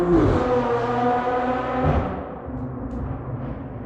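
A BMW M4 drives past with a throaty engine note, loud and near at first, then fading as it moves away, no talking over it.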